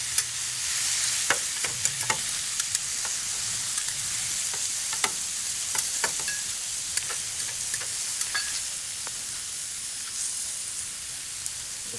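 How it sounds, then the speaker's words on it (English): Steady, loud sizzling of steak frying on a hot Blackstone 36-inch griddle, a dense crackling hiss with scattered pops and spits throughout. "We've got our steak going right here. Listen to that sizzle."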